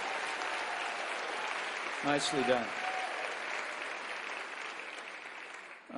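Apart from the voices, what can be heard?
audience applause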